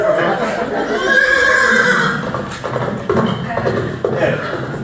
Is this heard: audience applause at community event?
no